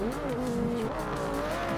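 A fully upgraded Ford Transit van accelerates in the racing game Forza Horizon 2, its engine whining steadily upward in pitch under a dense, loud roar of road and game noise.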